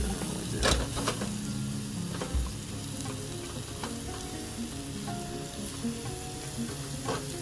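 Food sizzling and frying steadily in a pan over a camp stove outdoors, with a few clinks of utensils against the pan; continuous close crackle, no talk.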